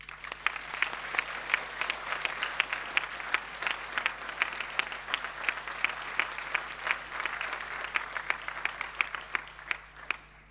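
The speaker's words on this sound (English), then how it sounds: "So students and lecturers, a round of applause for the families and friends." Audience applause fills a university graduation ceremony at the University of Sussex: dense, steady clapping from a large crowd that holds at an even level from start to finish.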